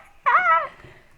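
A small armored dog in the video game Undertale gives a single short, bright whimpering yip, close and clear, over a faint background hum.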